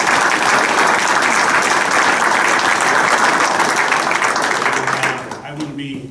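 Sustained loud applause from an audience at a Belmar borough council meeting, dense clapping filling the room and tapering off near the end as a voice begins over it.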